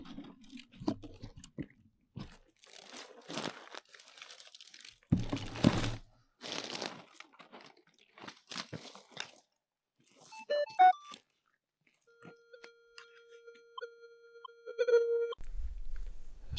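Equinox metal detector swept over a target while gold prospecting in the Nevada desert, giving a steady electronic tone that rises into a brief louder signal, after a stretch of crunching and handling noises.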